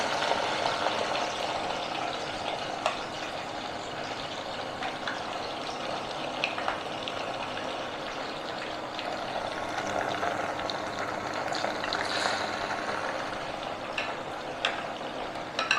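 Ghevar batter is poured a little at a time into hot fat for the traditional Rajasthani sweet. A steady, dense sizzling and bubbling hiss runs throughout, close and continuous, with no talking.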